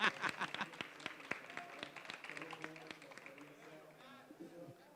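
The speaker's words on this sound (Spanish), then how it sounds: "un aplauso por favor." Audience at a panel discussion on referees breaking into applause, crisp claps at first that soon fade under a voice as he goes on speaking.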